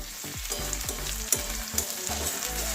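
Whole cardamom pods, cloves and two pieces of cinnamon crackle and sizzle in hot oil for a fish curry with yogurt, a steady close frying hiss with a few sharp pops and low clatter, no voices.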